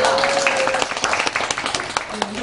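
Scattered audience clapping at a literary concert with a poet, a short burst of individual claps from a modest crowd mixed with a voice and a bit of murmuring.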